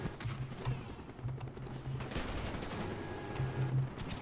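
An automated sentry gun firing in Call of Duty: Black Ops on PC, rapid bursts of machine-gun fire at moderate distance, repeating across the moment amid other game noise, with no talk.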